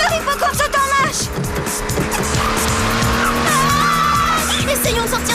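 A cartoon car speeds out of control with a roaring engine, squealing tyres and skidding, loud and continuous, with a sharp rising screech toward the end.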